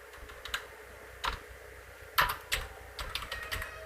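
A name is typed on a computer keyboard while a Python string program runs: a few scattered, close keystrokes tapped at an uneven pace, with no talking.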